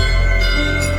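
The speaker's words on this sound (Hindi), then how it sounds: "जहां मंदिरों की घंटियां स्वयं संगीत रचती हैं" Temple bells in Pithoragarh ring as a sustained, shimmering metallic tone with strong layered overtones, steady and loud through the whole second with no voices.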